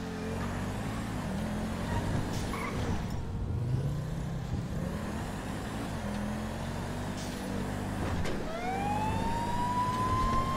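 Police siren in GTA V, a rising wail near the end over a steady drone of vehicle engines and traffic noise, loud and continuous throughout.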